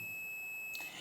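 A multimeter gives a short continuity beep while testing the thermal fuse of an electric fan. The single brief tone is faint, rising over a quiet background with a steady high whine.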